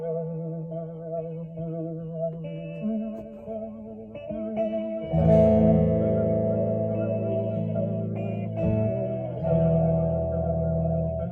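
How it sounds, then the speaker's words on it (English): Looped guitar-like audio run through a distortion effect, switched by a six-footswitch MIDI controller driving a looping app: layered sustained tones that thicken into a louder, gritty, saturated texture midway, steady and without talk. "I've got a bit of distortion, I think"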